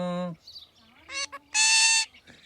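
A pet parrot gives several loud, harsh, honking squawks close by, short and irregular, with quiet gaps between them.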